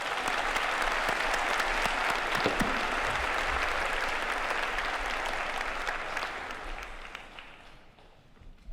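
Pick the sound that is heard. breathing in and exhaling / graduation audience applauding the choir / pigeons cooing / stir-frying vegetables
graduation audience applauding the choir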